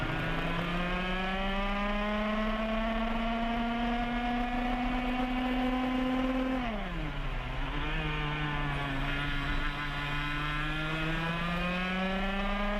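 Racing kart engine on a track at a 2017 WKA Manufacturers Cup race in New Castle, a loud steady buzzing drone that dips as the kart slows into a turn, then picks up again.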